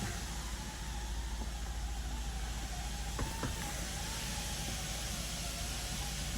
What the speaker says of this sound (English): Power seat functions.